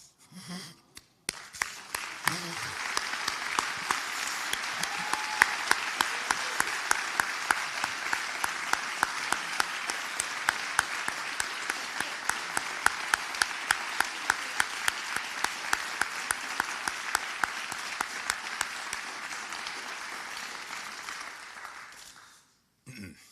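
A large audience applauds after a mayor's farewell address, sustained, even clapping lasting over twenty seconds with a few louder claps standing out, fading slightly toward the end.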